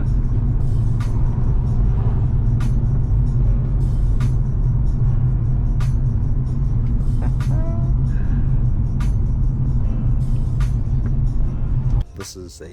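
A 2004 Toyota Caldina GT4 being driven, a steady low engine and road rumble heard from inside the cabin that drops away near the end, with people talking over it.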